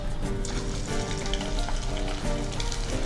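Marinated chicken pakoda deep frying in hot oil, a dense continuous bubbling sizzle close up with no talking.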